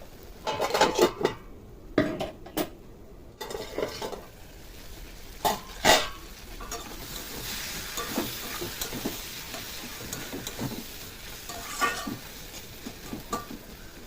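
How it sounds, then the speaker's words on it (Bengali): A utensil stirs potatoes in a pan that is being uncovered and covered between stirs, giving irregular metallic scrapes and clinks over a steady frying sizzle. "আলুটাকে মাঝে মাঝে খুলে খুলে আলুটাকে নেড়ে দিতে হবে"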